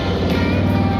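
Motorcycle engine held steady on the throttle during a riding skills practice session, a continuous loud droning rumble with no letup and no talk over it.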